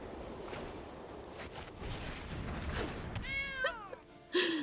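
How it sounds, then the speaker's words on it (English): Sanctuary cat meowing in the Magic: The Gathering Kaldheim video game, a couple of short, clear meows near the end following soft whooshing game effects. "Oh, a sanctuary cat."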